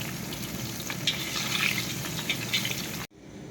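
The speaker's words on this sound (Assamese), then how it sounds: "ফ্ৰাই কৰি আছোঁ বৰ্তমান।" Fish frying in oil in a pan, a steady close crackling sizzle throughout, cut off abruptly near the end, with no talk.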